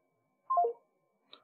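Electronic telephone tones sound on a voicemail call through a FreePBX Asterisk phone system: a quick descending run of three clear beeps, then silence and one short, fainter key tone, with no talking.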